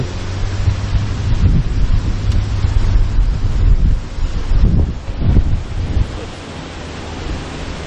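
Steady wind gusting across an open beach, with a low, broad rumble and rushing noise that swells and dips for several seconds.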